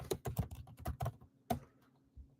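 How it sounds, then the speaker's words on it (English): Close keyboard typing on a computer, a quick run of clicky keystrokes followed by a pause and a few more scattered taps, fairly quiet and with no talking. "So again, I'll type that in there."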